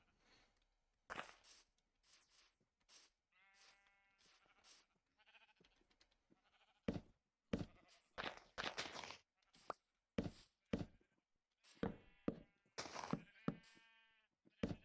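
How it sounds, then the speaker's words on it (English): Sheep in the video game Minecraft bleat again and again, short wavering cries with gaps between them, clear and close, no talking. "Come on, sheep."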